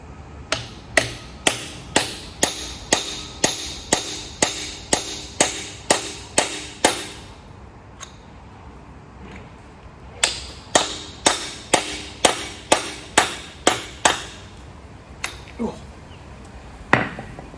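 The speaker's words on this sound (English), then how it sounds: "we're just going to tap it with a hammer" Hammer blows tapping a steel piece to drive it into a snug turned fit, a fast run of sharp metallic strikes, a pause, then another burst of evenly spaced taps, loud and close.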